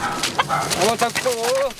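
Chickens being caught on a farm, with agitated squawks and clucks close by mixed with flapping, while people talk over the commotion.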